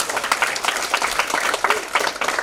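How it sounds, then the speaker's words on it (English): Audience clapping at a tourism technology symposium, a dense, steady patter of many hands filling the room without a break, with a voice faintly present underneath. "Another round of applause for the PM Dr."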